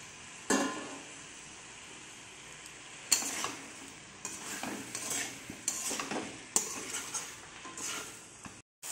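Potatoes are stirred in a cooking pan over a low sizzle, with a spoon scraping and clinking against the metal in several distinct strokes, close up and alone.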